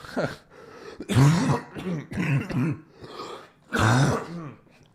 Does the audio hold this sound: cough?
yes